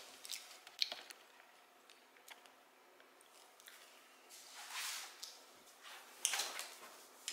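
Chipotle tortilla chips being chewed during a mukbang, faint close crunches and crisp crackles scattered irregularly, with some louder bursts toward the end and no talking.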